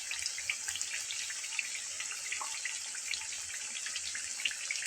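Egg chops frying in oil in a home kitchen, heard as a continuous soft, hissing sizzle with faint crackling and a few tiny pops, fairly quiet and with no voices.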